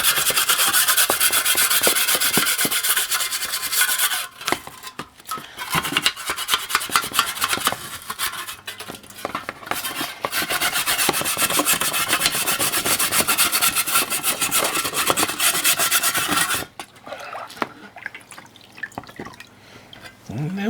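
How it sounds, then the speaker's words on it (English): Steady, loud rasping scrub against the rusty metal interior of a German Bing large horizontal model steam engine, with wet, dripping scratches and brief pauses partway through. "I'll give the inside a scrub."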